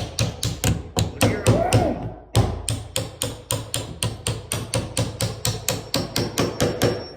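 A hammer taps a fitting into a door with a steady run of about two dozen sharp, close knocks at an even rhythm, broken by one short pause, while a voice is briefly heard early on.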